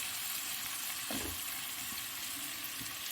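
Onions and curry leaves fry over high heat for kadhi, a faint, steady sizzle with a soft stirring scrape, no talking.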